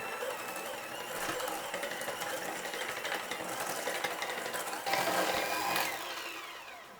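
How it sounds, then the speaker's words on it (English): Butter and sugar for a chocolate marble cake are whisked together in a bowl, producing a steady, rapid scraping and clattering close by, fairly quiet, with a brief louder patch near the end. "I'm going to whisk that together until everything becomes creamy"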